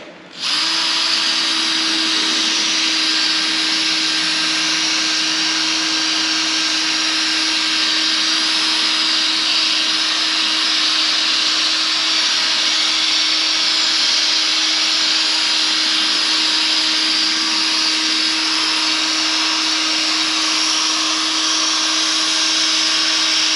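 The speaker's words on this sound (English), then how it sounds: "I'm gonna keep going with a couple of passes with the wet sanding" A car headlight on a C6 Corvette is wet sanded with a powered sanding pad from a 3M Ultra headlight restoration kit, giving a loud, steady, unbroken whine with a constant hum for over twenty seconds, no voices.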